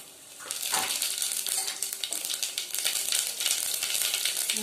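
Mustard seeds and cumin sizzle loudly in hot oil, a dense crackling fry that bursts in near the start and holds steady and close with sharp popping spits throughout.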